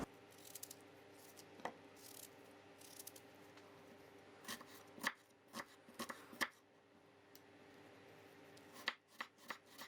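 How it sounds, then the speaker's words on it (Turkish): Knife finely chopping onions on a cutting board while preparing a thyme and za'atar pastry, heard as scattered crisp close taps in short bursts over a quiet background, with no talking. "Şimdi soğanlarımı doğrayacağım."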